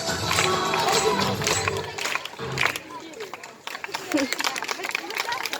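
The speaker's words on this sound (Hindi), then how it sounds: "तालियां बजाते रहे, रुकने नहीं तालियां।" School audience in Lohari Raghu, Hisar, clapping at a Republic Day (26 January) function, dense sustained applause with crowd noise and talk over it, fading and picking back up toward the end.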